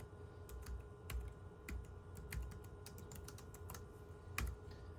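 Fingers tap out a password on a computer keyboard, an irregular patter of soft, close keystrokes with a few sharper clicks over a faint steady room hum.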